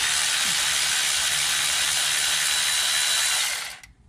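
A power ratchet spins out an 8mm transmission pan bolt on a Ford 5R55S transmission, giving a loud, steady, high-pitched whir for about three and a half seconds before it stops abruptly.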